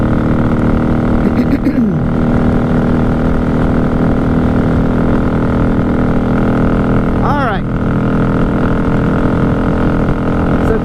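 A 1994 Honda Magna 750 VF750C motorcycle cruises on a highway at night, its engine holding a loud, steady drone around 5,000 RPM for the whole stretch, with constant wind rush and no talking over it.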